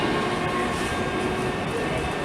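Constant rail rumble from a c2c train running London Liverpool Street to Shoeburyness, a dense even roar with faint tonal hum, steady and fairly loud for the whole short stretch.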